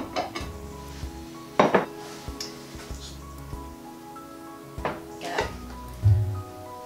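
Ceramic bowls clatter and clink together a few times as they are grabbed from a stack in a kitchen while Cajun rice and beans are being served, with scattered sharp knocks over a quiet background.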